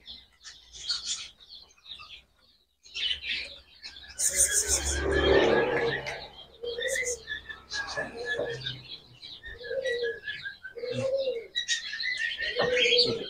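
Birds in a pet shop coo and chirp in repeated short bursts close by, with doves or pigeons prominent, while a person talks in between.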